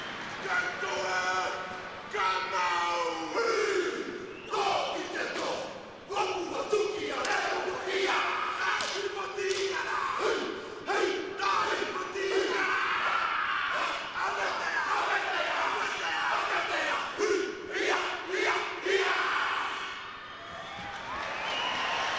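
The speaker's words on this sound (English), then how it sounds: "These crowds love to see these pre-match rituals." Tonga and Cook Islands rugby teams perform a pre-match war dance at the 2013 World Cup, with rhythmic shouted chants and stamps rising over a loud, roaring stadium crowd for the full stretch.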